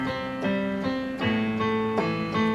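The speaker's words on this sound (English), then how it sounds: "This opening line, it's just a detuned piano." A detuned piano plays a saloon-style opening line, a short run of about six evenly spaced notes with a warbling, slightly out-of-tune shimmer, heard clearly on its own.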